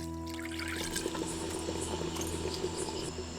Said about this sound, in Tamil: குழம்புக்கு தேவையான அளவு தண்ணியை ஊத்தி கொதிக்க வச்சிடலாம்